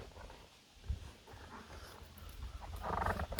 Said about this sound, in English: I'm just getting overrun with these dogs